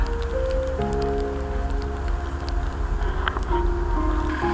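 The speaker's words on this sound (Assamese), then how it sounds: "হালকা হালকা বৰষুণৰ টোপাল মই ফিল কৰি আছোঁ মোৰ ফেচত" Steady, soft patter of light rain falling on surfaces near a coffee plantation in Coorg, Karnataka, a continuous hiss with faint scattered drops and some distant tonal hum in the background.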